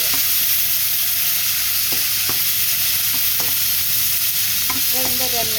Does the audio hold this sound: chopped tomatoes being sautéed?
yes